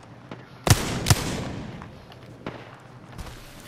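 Gunfire from the battle royale game Apex Legends aimed at the player: two sharp, loud shots close together, then a few fainter distant cracks over quiet background.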